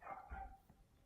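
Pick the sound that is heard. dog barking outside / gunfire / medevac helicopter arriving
dog barking outside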